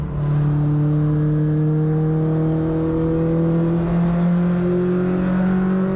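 Allison Legacy Series race cars at Caraway Speedway, a loud, sustained engine drone with steady pitch and slight rises, several cars running together close by without pause.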